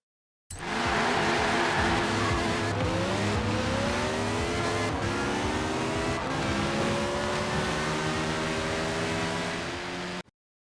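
A Peel P50 microcar's tiny engine strains at full throttle in a drag race against a Renault Clio, revving loud and close through rising gear pulls with no talk.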